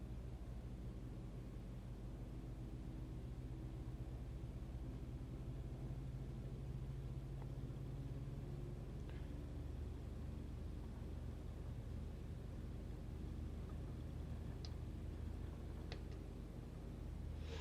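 An aircraft starts to roll in Microsoft Flight Simulator, a faint steady engine rumble with broadband hiss and a few small clicks near the end, no voices.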